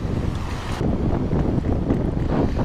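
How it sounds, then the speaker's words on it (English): Strong wind roars across the microphone while riding an e-bike, a loud, continuous rushing buffet with gusty surges and no talking. "there's a pretty good amount of wind here"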